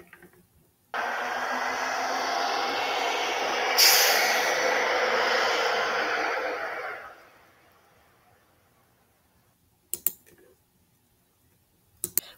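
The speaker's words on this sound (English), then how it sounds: "A bus." A bus releases a long, loud hiss of its air brakes lasting several seconds before trailing off, followed by a few sharp clicks and knocks in the quiet afterward.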